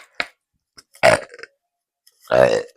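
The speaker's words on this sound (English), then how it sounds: "You got me belching" Two loud, close belches, one short and one longer and deeper with a rumbling tail, separated by a quiet gap with small clicks.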